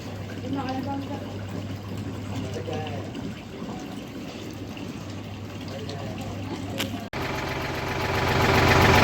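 An electric motor set up to pump biogas slurry out of a digester runs with a steady low hum and liquid rushing. The noise turns rougher and louder near the end, and voices talk over it in the background.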